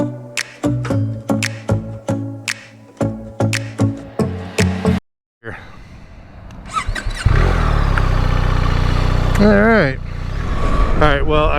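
A BMW R 1300 GS motorcycle starts up and rides off. After a few seconds of rhythmic tonal sounds and a brief silence, its engine sputters to life and then holds a loud, rising roar close by.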